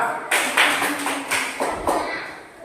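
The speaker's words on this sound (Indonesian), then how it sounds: "Tepuk tangan untuk kita semua." A group of teachers and students claps hands together in a classroom, with uneven bursts of moderate claps rising and fading over a couple of seconds and faint voices underneath.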